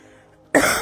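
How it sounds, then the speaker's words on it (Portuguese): One sudden, loud, close cough from an adult suffering a persistent flu, coming abruptly after near silence. "Então me perdoe se eu ficar aqui tossindo algumas vezes, tá?"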